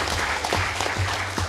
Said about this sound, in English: I'd like to ask everyone to give a round of applause to all of the 5 speakers